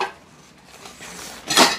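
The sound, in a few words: camping cookware plates, pots and pans being handled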